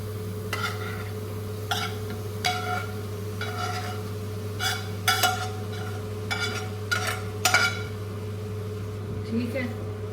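A spoon stirs khoya into carrot halwa cooked in desi ghee in a pan over a gas flame, giving repeated scraping strokes every second or so over a steady low hum, with speech at times.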